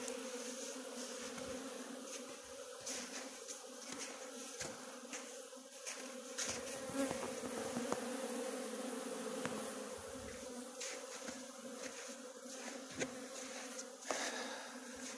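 Honeybees buzz steadily around their hives on an early spring day as the snow melts, a continuous droning hum with individual bees passing close now and then, no voices.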